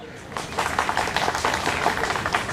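Protest crowd clapping in a dense, continuous patter of many hands, moderately loud and close, with voices mixed in.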